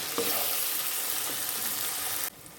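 Ground spices fry in a pan of oil for a jackfruit biryani and are stirred, giving a dense, close sizzle with light spoon scrapes that cuts off abruptly near the end.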